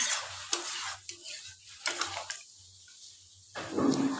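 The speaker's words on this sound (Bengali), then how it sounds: "আরও একটু এই মশলাগুলোর সাথে ভালো করে নাড়িয়ে পাঁচ সাত মিনিট আরও আমি ঢেকে রাখবো" Chicken tikka being stirred with spices in a pan for butter masala, soft scraping strokes with a light sizzle coming in short bursts, then louder and busier near the end.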